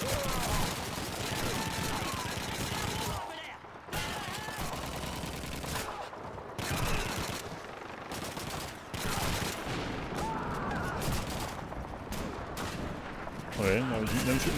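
Continuous gunfire in the World War II shooter Call of Duty 2 during a village assault, dense rapid shots and bursts filling the scene with brief gaps, loud and close, with a voice talking over it.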